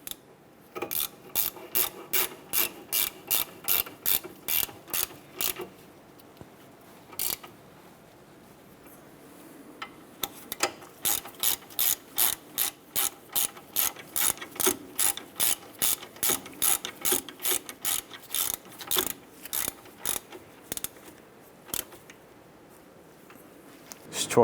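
Hand ratchet snugging down bolts on a 2008-2012 Honda Accord driver side suspension knuckle, rapid clicking strokes in several long bursts with short pauses between them, close and clear with no talking.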